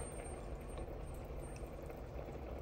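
Water boiling in a pot for a bean stew, a continuous bubbling and churning that stays low and steady throughout, heard close with no talking.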